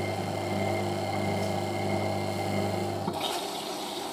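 A Hotpoint 9530W Electronic 1000 Plus washing machine filling with water during a rinse on a 60°C cotton programme, a steady rushing inflow with hum that cuts off abruptly near the end, leaving a faint quieter background.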